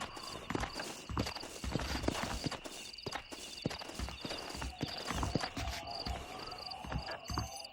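Horses' hooves clip-clop in a steady walking rhythm in the Red Dead Redemption video game, a continuous run of close, moderately loud hoofbeats with no voices over them.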